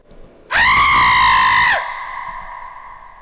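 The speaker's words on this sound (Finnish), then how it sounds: "Mikä tuo oli? Joku huusi." A loud, piercing scream bursts out for just over a second, then trails off into an echoing tail, as if in a dark sewer tunnel.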